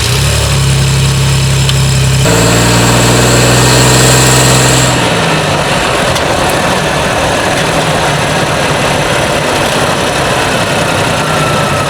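Ford Bronco engine idling with a steady low hum, then revving and giving way to broad, rushing road noise as the truck drives off, loud and close throughout.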